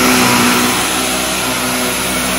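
A Jimmy JV35 bed anti-mite vacuum cleaner running over bed fabric: a loud, steady, close-up motor roar and airy whine that holds unbroken throughout.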